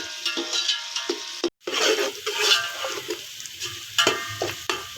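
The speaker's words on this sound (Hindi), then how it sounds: "तो इसको मैं अच्छे से फ्राई करती हूँ" Onions frying in a pot for chicken pulao, a steady sizzle broken by repeated scraping and clinking stirs of a spoon, close and fairly loud, with one brief silent cut and no speech.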